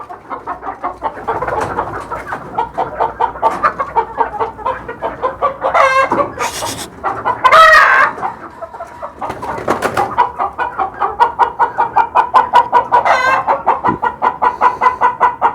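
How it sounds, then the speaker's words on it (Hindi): Chickens clucking continuously close by, with a rooster crowing loudly partway through; a busy, rhythmic chorus of hens with no talking. "उससे बोलना शुरू हो गए हैं मुर्गे, क्योंकि मुर्गियाँ भी साथ हैं अब।"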